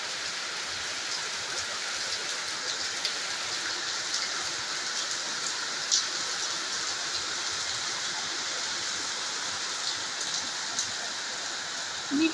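A heavy afternoon downpour hisses steadily and densely, close by and loud, with a few faint drop impacts on the surfaces around. It runs without pause and without any voices.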